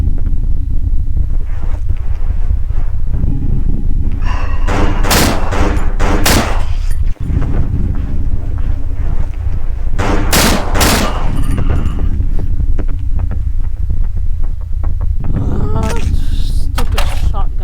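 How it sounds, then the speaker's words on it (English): Shotgun blasts in the horror game Cry of Fear, a few loud booming shots spaced several seconds apart over a constant low rumble, with a voice talking throughout. "Stupid shotgun, I hate it."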